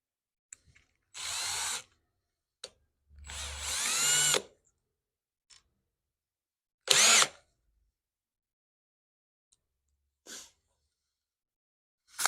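A power drill fitted with a magnetic screw ring drives screws into wood in short whirring bursts, a few seconds apart, each spinning up and stopping, with quiet clicks between them and no talking.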